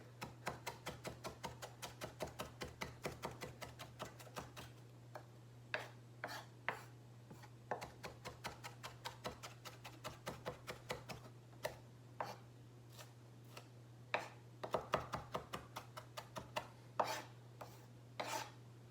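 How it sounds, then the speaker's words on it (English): A knife chops on a cutting board while guacamole is made from scratch, a long run of quick, evenly spaced close taps that later turn into sparser, heavier strikes, over a low steady hum. "Keep on cutting."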